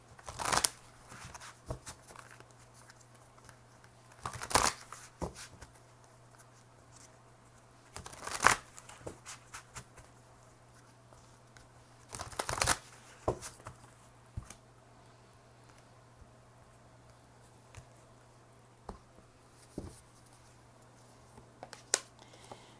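Angel cards being shuffled by hand during a tarot reading: soft riffling patter recurs in several louder bursts across a quiet room, with fainter card handling between them.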